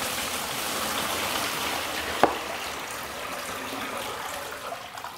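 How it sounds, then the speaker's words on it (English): About 2.5 to 3 gallons of clean water poured into a gold dust concentrating table, a steady splashing hiss with one sharp click partway through, moderately quiet and continuous. "So we're going to add our water right here."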